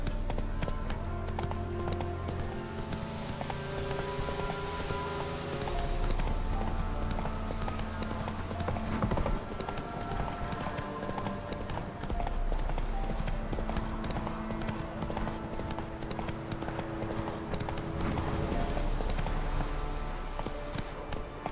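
A horse galloping in The Witcher 3 video game, hooves clip-clopping in a steady fast rhythm under continuous game music and ambience for the whole stretch, with no talk.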